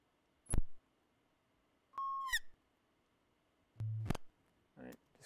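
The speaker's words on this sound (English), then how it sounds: "these are sound files that I created by recording the output of a calibration tone generator, but like messing with the knob in funny ways" Glitchy electronic tones from a recorded calibration tone generator with its knob twisted erratically: four short separate bursts of sliding, chirping and buzzing pitches, each under a second, with silence between them.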